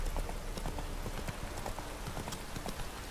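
Horse hooves clip-clop in a steady galloping rhythm in the Witcher 3 video game, with a loud, even background of outdoor game ambience and no talking over the hoofbeats.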